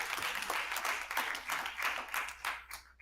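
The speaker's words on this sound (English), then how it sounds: "A big round of applause, please." An audience at an interfaith prayer gathering claps in a brief round of applause, fairly quiet and a little distant, with the clapping pulsing and thinning toward the end.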